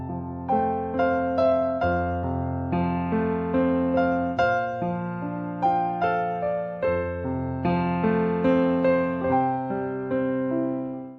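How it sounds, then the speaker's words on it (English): A piano plays a slow accompaniment, the left hand combining power chords and triads under a melody, with regularly struck chords ringing out clearly and no talking. "another beautiful left hand accompany pattern you can use is combining both the power chord and triad chord on the left hand, and it sounds something like this"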